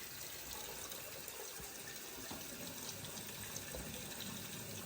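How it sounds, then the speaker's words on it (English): Water runs steadily from a kitchen sink tap, a faint continuous hiss and splash that stays even throughout with no speech. "I'm going to turn the water on again"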